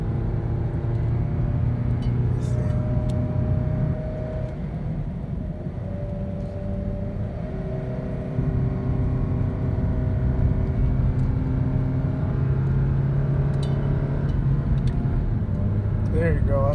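Chevy Colorado with a 2.5L engine towing a 1964 Impala SS on a trailer up a steep hill, its steady low engine drone and road rumble running continuously and fairly loud, with the pitch holding through a gear.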